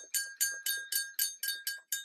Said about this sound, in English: my dog collar has a Satan's Bell on it from the album.